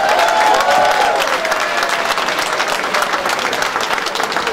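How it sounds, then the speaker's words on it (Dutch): A crowd applauds loudly and steadily, a dense wash of many hands clapping that holds for several seconds. "Een applaus voor deze mensen en voor jezelf natuurlijk"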